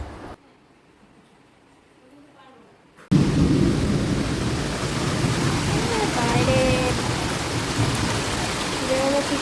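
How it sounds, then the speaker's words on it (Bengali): Heavy rain pours outside, loud and steady after a quiet opening stretch, with faint higher tones breaking through the downpour. "বাইরে প্রচণ্ড বৃষ্টি হচ্ছে"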